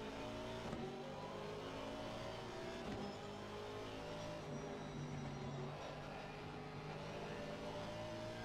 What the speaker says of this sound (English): Listen to that engine sound from the Porsche.